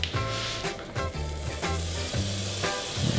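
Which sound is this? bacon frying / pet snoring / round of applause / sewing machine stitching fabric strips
bacon frying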